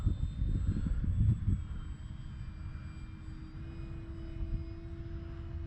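An Arrows Trekker electric RC plane flies overhead on its maiden flight, giving a steady motor drone. The drone is loudest at first and then settles into a softer, sustained whine.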